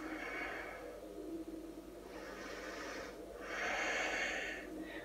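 A yoga instructor breathes deeply and audibly during a morning detox session, with long airy inhales and exhales, close and soft, rising in slow waves.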